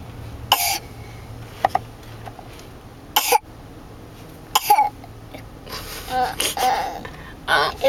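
A child imitates a father's cough, giving several short, sharp coughing bursts spaced a few seconds apart, with breathy throat sounds between them, close to the listener indoors.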